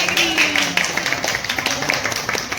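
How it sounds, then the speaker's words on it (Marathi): Several people clap indoors, a dense run of quick close hand claps over a couple of seconds, with some talk faintly mixed in. "टाळ्या."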